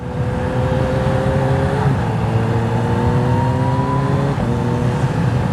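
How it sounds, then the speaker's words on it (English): Kawasaki Z H2 motorcycle riding under power: a loud, close engine drone climbs in pitch, then dips briefly at two quick-shifted upshifts before rising again. "Quick shifting up is very smooth, as I just did there."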